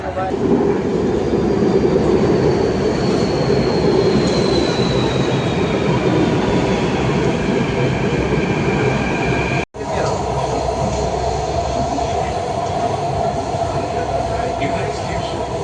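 A metro train rumbles steadily along the track with a rising and falling wheel squeal, loud and continuous, heard from inside the carriage.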